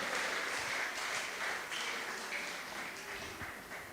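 A church congregation applauds and cheers in praise of the word of God, a dense, sustained wash of clapping and voices that gradually thins and softens toward the end.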